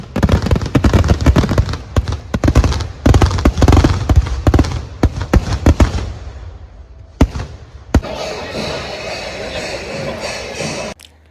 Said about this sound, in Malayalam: നമ്മൾ വല്ലങ്ങിയുടെ സാമ്പിൾ വെടിക്കെട്ട് പൊട്ടാൻ തുടങ്ങി